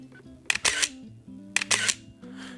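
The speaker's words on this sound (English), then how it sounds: "here's what it sounds like taking a photo." Film SLR camera shutter firing twice, each a sharp mechanical click followed by a brief whirring auto-wind advance, close and clear over a faint steady hum.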